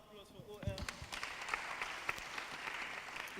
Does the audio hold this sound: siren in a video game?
no